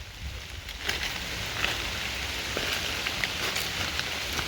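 Rain falls steadily in a forest during mushroom hunting, a dense continuous patter on leaves and surfaces with occasional louder drops, close and even throughout, with no talking.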